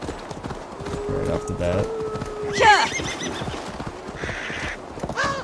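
Horse hooves clip-clopping in Assassin's Creed Valhalla, a rapid irregular trot under someone talking, with a whinny and a high tonal call in the middle.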